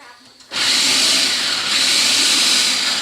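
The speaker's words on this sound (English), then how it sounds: "Blend it up." A blender starts abruptly and runs at a loud, steady high-pitched whir while blending a smoked bacon cheesecake mixture. Before it kicks on, the room is quiet.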